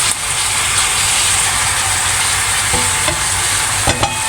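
Chicken pieces frying in a pot with grated tomato, a steady close sizzle throughout with scraping and clacking from a utensil stirring and turning the meat near the end.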